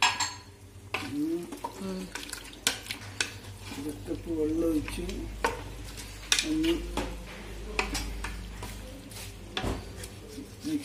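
A spoon stirs chicken kabsa in a metal pot, making repeated scraping clatters and clinks with a soft simmer underneath, while someone speaks over it.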